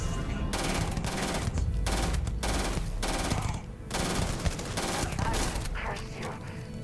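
Rapid automatic gunfire from the video game Starfield, loud and continuous in dense bursts with a brief dip midway, no speech over it.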